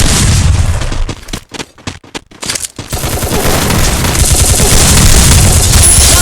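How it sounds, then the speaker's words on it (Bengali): Rapid bursts of gunfire and booming shots in a battle royale video game, dense volleys at first, then a broken string of separate loud cracks, then sustained heavy firing close up. "আমি যখন এই ঘরে ঢুকি তখন আমার উপর এনিমি ফায়ার করে।"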